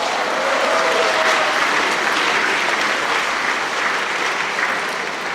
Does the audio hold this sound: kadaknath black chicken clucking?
no